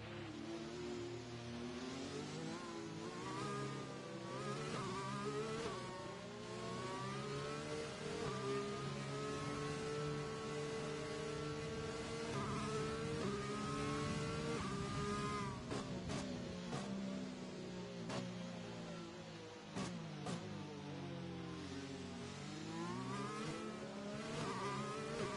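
Race car engines in a racing video game, running in rain behind a safety car on an Austrian circuit: a continuous loud, rising and falling engine whine with shifting revs and a few sharp ticks, with no talk.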